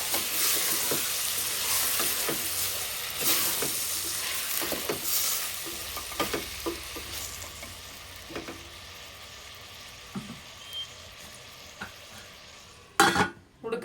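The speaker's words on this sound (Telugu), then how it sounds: "టమాటా ముక్కల్ని ఇందులో వేసుకోవాలి కొంచెం ఇలా మీద మీద కలిపి మూత పెట్టుకోవాలి" Tomato pieces sizzle steadily as they fry in a pan for a drumstick tomato curry, with repeated scraping and stirring strokes and a few clinks of the utensil against the pan, no voices.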